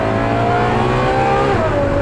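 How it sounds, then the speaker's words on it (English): A Ferrari FF's engine revs hard toward the red line, a loud, steady, close roar that climbs in pitch across two seconds with no talking over it. "It's such insane noise that this car makes."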